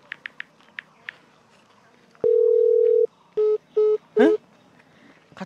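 Telephone tones while placing a call: a long steady dial tone followed by three short beeps and a final warbling tone, loud and close, with brief tapping sounds before it.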